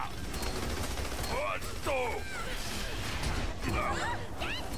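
Gunfire rattles in the sci-fi shooter game Battleborn as a continuous busy clatter of weapon fire, mixed with whooping electronic chirps and other game effects.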